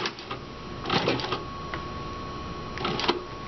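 A Juki sewing machine stitches in two short mechanical whirring runs, close and moderately loud, with a steady electrical hum underneath.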